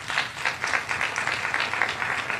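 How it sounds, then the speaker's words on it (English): A small audience claps for board members Ray and Carter, a brief, steady patter of hands at moderate distance. "If you can give a round of applause to our board members, Ray and Carter"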